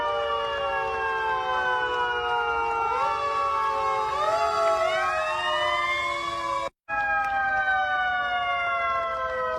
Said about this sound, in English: New York City firefighters hit the sirens and applause for the healthcare workers at Brooklyn Hospital.